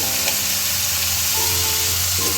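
Onions with salt fry in a pan for a dried fish and egg curry, a loud continuous sizzle with a couple of faint stirring touches, no voices.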